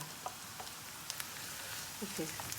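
Onion frying in a pan, a faint steady sizzle with light clinks of a utensil, close but quiet, with a brief voice murmuring near the end.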